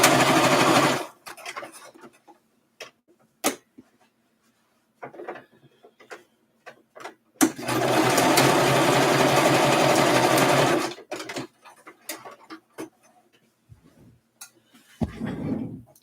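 Sewing machine stitching a thick interfaced makeup bag: two long steady whirring runs of stitching, close and loud, separated by quiet handling clicks and fabric shuffling, with no talk.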